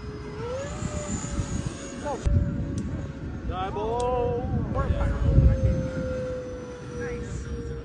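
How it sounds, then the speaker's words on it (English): Freewing PJ50 RC model private jet flying stunts at a Veteran's Day fly-in, its electric ducted-fan whine rising and falling steadily through the passes, with brief tonal sweeps and people talking nearby. "Check out the Freewing PJ50 private jet performing stunts."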